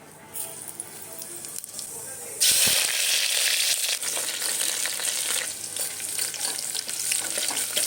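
Spices for peas rice hit hot oil in a tempering: quiet at first, then an abrupt loud burst of spitting sizzle that settles into a steady crackle, with some stirring.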